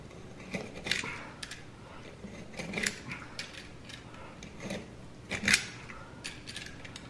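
A knife slicing through a rubber horse stall mat for a garage gym floor, producing irregular scraping, creaking cuts and small clicks at close range, quiet and without talk.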